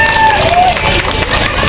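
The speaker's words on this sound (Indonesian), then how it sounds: "tepuk tangan dulu untuk Arumi ya" A group of children applauds a classmate during an educational visit to a fire station and library, clapping dense and close with a brief voice and crowd babble mixed in.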